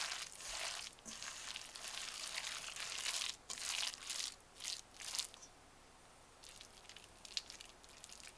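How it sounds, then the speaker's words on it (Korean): Soft tofu squished and crushed by hand for mushroom pancake batter, giving close, wet crunching and squelching bursts in irregular clumps with brief pauses, fairly quiet and with no voices. "두부를 손으로 으깨면 먹을 때 식감이 더 좋다"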